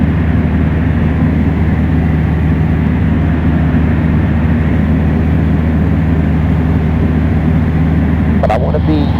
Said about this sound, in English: then we're going to land the plane